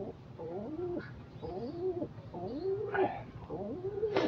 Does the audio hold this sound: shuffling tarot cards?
no